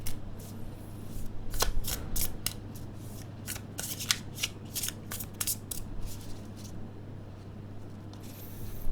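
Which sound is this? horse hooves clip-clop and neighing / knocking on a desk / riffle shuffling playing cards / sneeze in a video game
riffle shuffling playing cards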